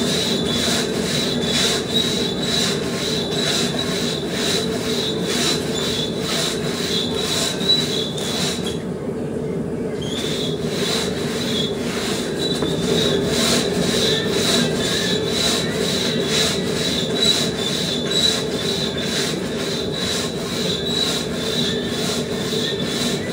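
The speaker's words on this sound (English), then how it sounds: "I'm going to do a bit of single sawing to get warmed up" A single buck saw cuts through a frozen log outdoors in freezing weather, a loud, steady back-and-forth rasp of regular strokes with one brief pause, continuing rhythmically throughout.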